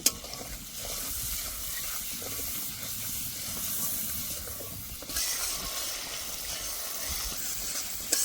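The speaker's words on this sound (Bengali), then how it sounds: "এবার খুব ভালো করে কষে নেব" Spices sizzle and hiss in hot oil for an aloo potol curry, with a spatula stirring through them in a continuous close frying sound and a short scrape at the start.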